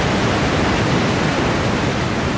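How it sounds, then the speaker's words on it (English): A steady, loud roar of falling water at Victoria Falls, dense and unbroken, heard up close. "Welcome to Victoria Falls, the largest waterfall in the world."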